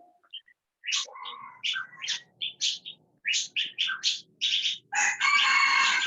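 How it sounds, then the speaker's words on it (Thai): A rooster crows close by, with chirping birds and clucking fowl around it, ending in a louder sustained crow. "อไก่ขันก็เข้ามาในห้องเรียนของเราแล้วนะคะ"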